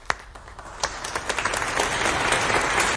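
Applause sound effect played on a live talk show, starting with a few scattered claps and swelling into dense, steady crowd clapping that holds loud until it cuts off abruptly.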